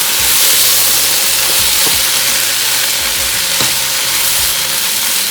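Mushrooms and cabbage being stirred in a cooking pot for a vegetarian breyani: a steady, loud sizzle and frying hiss with a few scraping stirs of the spoon, no voices.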